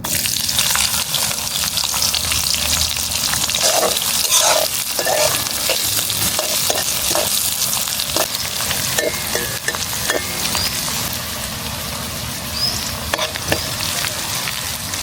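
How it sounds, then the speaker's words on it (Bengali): Whole bay leaves and chopped onions frying in hot oil, stirred in a pan, a continuous close sizzle with scraping stir strokes and clinks throughout, no voices. "তেলটা হয়ে গেছে, আমরা এবার দিয়ে দেবো গোটা তেজপাতা, দিয়ে দেবো পেঁয়াজ কুচিগুলা"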